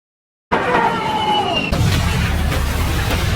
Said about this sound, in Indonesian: helikopter meledak akibat sebuah tembakan